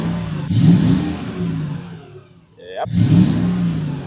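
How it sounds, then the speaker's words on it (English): A Mercedes car engine runs close by, revving up in two surges separated by a quieter dip. A brief word is spoken between the revs. "at least the car is running"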